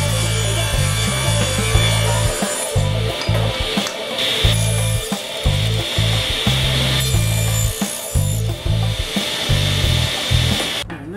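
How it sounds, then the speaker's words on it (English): A saw cuts edging strips from warped reclaimed cherry wood in loud, close, rhythmic strokes, each rasping pass followed by a brief pause, continuing steadily with no voices. "So now I'm going to take this warped cherry and I'm going to cut some edging out of it"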